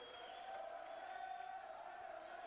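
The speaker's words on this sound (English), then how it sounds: "And the crowd is still continuing to chant, Brian." Boxing crowd chanting at a fight between Xolisani Ndongeni and Godfrey Nzimande, a sustained, droning mass of voices in unison, distant and fairly faint throughout.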